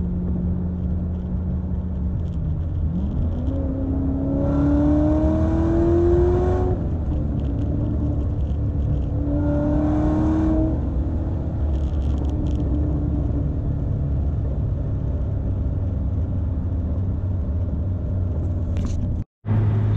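A 2019 Chevrolet Corvette ZR1 with a seven-speed manual transmission, driven on a closed course. The engine drones loud and close, rising through a couple of revving pulls and shifts before settling into a steady cruise, and ends with a brief dropout.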